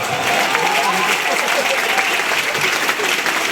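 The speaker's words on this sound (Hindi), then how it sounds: "ताली बजाई हाथ उठा के जोरदार" An audience at a Hindi poetry recital (kavi sammelan) breaks into loud, dense applause that stays sustained and even, with crowd voices mixed faintly into the clapping.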